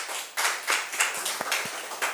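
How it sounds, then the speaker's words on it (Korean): Church congregation clapping in praise during a Sunday service, a loose burst of hand claps in an uneven rhythm, fairly faint with scattered sharper claps standing out. "우리 주님께 영광의 박수 올려드리겠습니다."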